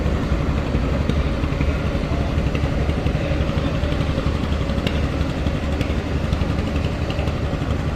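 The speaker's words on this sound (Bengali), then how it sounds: "এক ইঞ্জিনের লঞ্চ এটা" A single-engine passenger river launch on the Dhaka–Sureshwar route runs with a loud, steady, close diesel drone and rattle, unbroken for the whole stretch.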